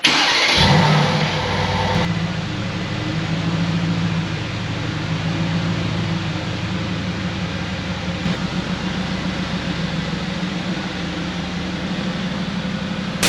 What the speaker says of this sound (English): Cold start on the AMG GTS.